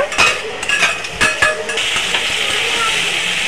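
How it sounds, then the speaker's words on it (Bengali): Potatoes with fried coconut are stir-fried in a pan for a vegetarian green jackfruit curry, with a few quick scraping strokes giving way to a steady, close sizzle. "আলুটা দিয়ে একটুখানি কষাবো।"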